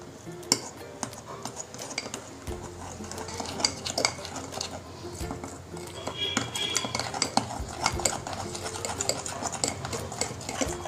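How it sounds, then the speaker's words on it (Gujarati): A spoon clinks and scrapes against a small bowl, stirring coffee powder with Vaseline, a steady run of close metallic taps and scraping with no talk. "હવે આપણે કોફી અને વેસેલીનને સરસ રીતે ફરીથી મિક્સ કરી દઈશું"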